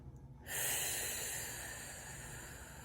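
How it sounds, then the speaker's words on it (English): One long deep inhale drawn through the nose, starting abruptly after a moment of quiet and slowly fading as the breath fills, close and clear. "just breathe through your nose"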